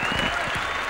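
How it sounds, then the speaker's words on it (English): A race crowd cheers and applauds after a 1995 Formula One win, a dense, loud wash of clapping and roaring from a distant grandstand, steady throughout. "Did you hear the crowd?"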